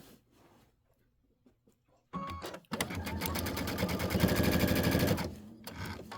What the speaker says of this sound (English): Here's where the stitching starts.